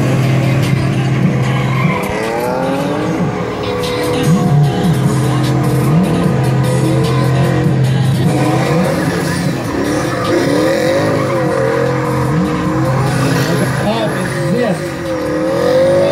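A BMW E30 drift car slides at a drift competition in Jelgava, Latvia, with loud sustained tire squeal and engine revving that rise and fall over several seconds, while a commentator talks over it.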